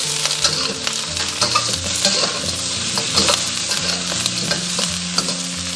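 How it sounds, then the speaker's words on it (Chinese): Pork ribs with aromatics and spices sizzle hard in a hot iron wok while being stir-fried, a loud, dense crackle with repeated spatula scrapes and clinks throughout, close up and without voices. "把这些煸炒一下。"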